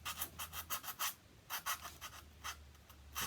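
A file cuts into a styrofoam edge for a light surround, making repeated rasping, scratchy strokes in short bursts, close and fairly loud, with brief pauses between groups of strokes.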